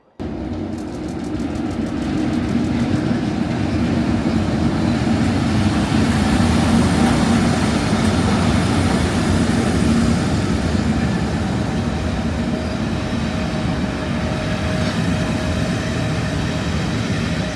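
A DB Cargo Class 60 diesel locomotive hauling a railtour train at Stafford gives a steady, loud, continuous engine rumble and drone that holds at an even level throughout, with no talking.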